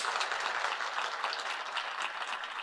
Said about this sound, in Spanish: Démosle un aplauso ahora a ellos